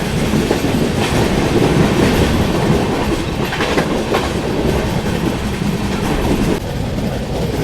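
A passenger express train runs through the Karjat–Lonavala ghat section, passing Palasdhari station without stopping: a steady, loud rumble with clickety-clack from the wheels on the rails and occasional squeals, heard close from inside the moving train.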